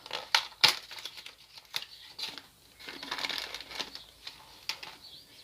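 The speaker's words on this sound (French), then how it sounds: "Donc on n'a plus qu'à déballer le petit filtre." A new motorcycle oil filter unwrapped from its packaging, faint close crinkling and tearing of wrapping with a few sharper rustles and crackles, no talk.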